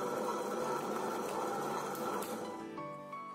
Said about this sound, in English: Now the mixer grinder has been running for 20 minutes